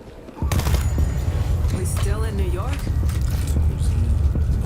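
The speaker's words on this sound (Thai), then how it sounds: "เออปืนนี่เสียงเพราะกว่าเยอะเลย" Rapid gunfire from the zombie shooter World War Z, a loud sustained burst of shots over a low rumble, with a voice talking beneath the shooting.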